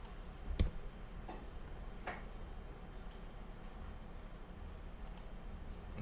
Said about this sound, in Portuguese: Vou pressionar aqui Shift Enter